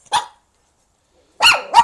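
A reactive Pomeranian barks nearby, one sharp yap followed after a pause by two quick, loud, high-pitched barks, with silence in between.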